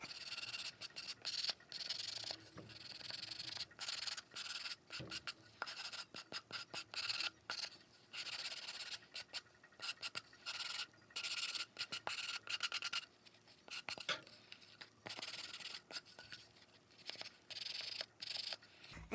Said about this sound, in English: This is a sanding block that has just different textures on different sides that help you to get the finish that you want.